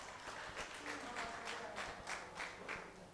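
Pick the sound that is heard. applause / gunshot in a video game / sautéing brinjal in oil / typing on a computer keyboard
applause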